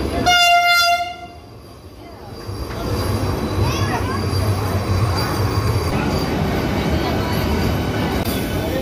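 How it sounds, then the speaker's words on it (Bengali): A Vande Bharat Express train pulls into a platform at an Indian railway station, opening with a loud, sustained horn blast and followed by a steady rolling rumble with wheel noise. "এই প্ল্যাটফর্মেই আমাদের ট্রেন দেবে।"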